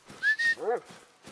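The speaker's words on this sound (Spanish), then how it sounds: "He escuchado al perro aquí." In The Hunter: Call of the Wild, a hunting dog gives a short yelping bark just after a rising whistle, both brief and at moderate distance, with no talk.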